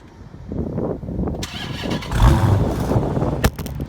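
A 2016 Dodge Challenger Scat Pack engine cranks on a warm start and catches, then rumbles up into a smooth, fairly quiet idle close by, with a brief rev blip near the end.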